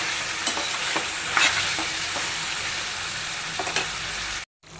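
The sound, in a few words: Andhra chicken frying in pan until water dries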